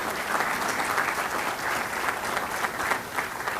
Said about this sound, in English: Give yourselves a round of applause for what we have.